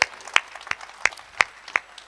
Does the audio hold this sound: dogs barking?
no